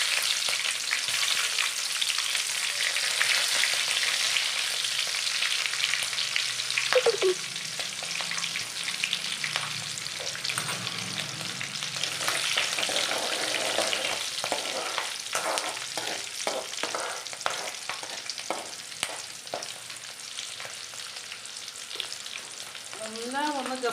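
Sliced green chillies frying in hot oil for fried rice, a loud, continuous close sizzle and crackle with occasional stirring scrapes and clinks, no talk.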